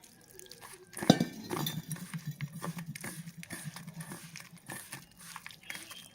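A spoon clinks against a metal bowl while stuffing masala for Maharashtrian stuffed eggplant is mixed, with one sharp knock followed by a steady run of soft scraping and stirring, close up.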